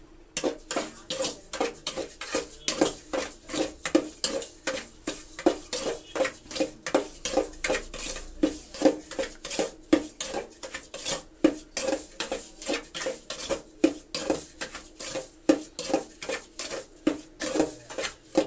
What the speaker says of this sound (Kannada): ರವೆ ಹುರಿದ್ರೆ ಒಂದು ಪಾತ್ರೆಯಲ್ಲಿ ಹುರಿದ್ರೆ ಸಾಕು.